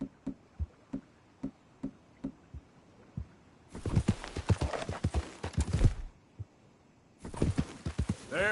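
Horse hooves trotting in the video game Red Dead, with a brisk, even clip-clop at first, then denser overlapping hoofbeats with a louder rushing layer, close and clear with no talking.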